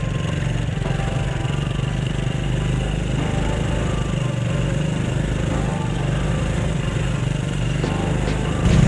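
A scooter engine running steadily on a mountain road in north-west Vietnam: a continuous, loud, low droning hum with little change in pitch, close up throughout, with wind noise and no clear speech.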